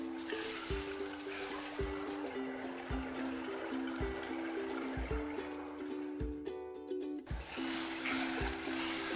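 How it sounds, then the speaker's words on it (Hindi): Tomatoes fry with masala in a pan for an aloo and sem phali sabzi: a soft, steady sizzle with occasional light knocks from stirring, over a faint background tone. "टमाटरों को भी थोड़ा सा फ्राई कर लेंगे ताकि ये थोड़े से सॉफ्ट हो जाए।"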